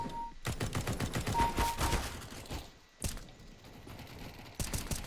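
Bursts of rapid automatic gunfire and single shots from the video game CS:GO, loud and dense, with a short lull before a final burst.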